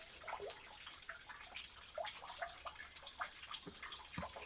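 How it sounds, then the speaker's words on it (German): A forest waterfall gives a steady, close wash of rushing water, broken by frequent small splashes and drips throughout. "Danke, lieber Wasserfall, dass ich dich finden durfte."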